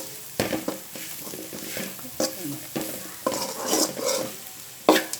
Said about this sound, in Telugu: పౌడర్ వేసుకొని ఒక 2 మినిట్స్ చాలా ఇలా కలుపుతూ ఒక బాగా కలిసే వరకు ఇలా ఫ్రై చేసుకోవాలి